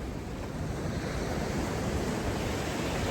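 Ocean surf rolling onto Chesterman Beach in Tofino, a continuous broadband wash of waves with some wind rumble, steady and fairly close with no voices.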